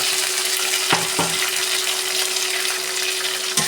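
Onion, garlic, ginger, green chilli and curry leaves being sautéed in oil for spicy mackerel curry, a loud continuous sizzle with a couple of stirring knocks against the pan.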